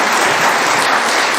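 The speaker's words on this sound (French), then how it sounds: "On a le droit d'applaudir le maire." Municipal council members applaud the mayor in a council session, a brief, dense burst of many hands clapping at a steady, fairly loud level.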